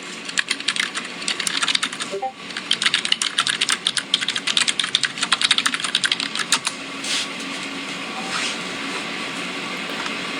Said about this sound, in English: That is the loudest keyboard I've ever heard.